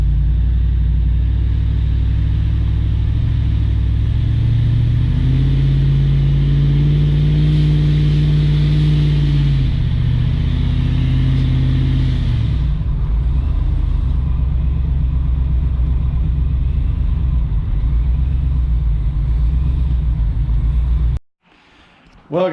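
A procharged truck engine driving and revving, a loud continuous rumble with a rising and falling rev in the middle, then a steady drone that cuts off near the end.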